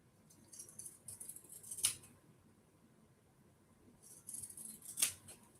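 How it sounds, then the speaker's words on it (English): Pinking shears snipping through fabric at a sewing table, two crisp cutting strokes about three seconds apart, fairly quiet and close with soft rustling between them. "These pinking shears are great to minimize fraying."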